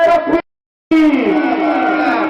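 A crowd at a religious gathering roars a takbir response after a short pause, the massed voices loud and close, a single voice heard just before.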